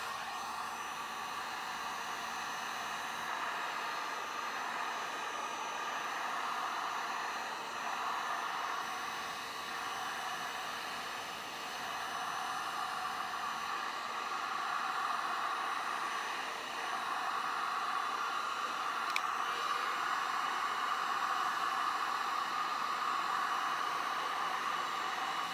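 A heat gun blows a steady, loud airy roar over resin art poured on a wood round with sparkly blue colours, continuing with small shifts in intensity and no talking.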